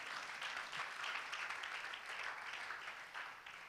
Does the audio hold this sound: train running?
no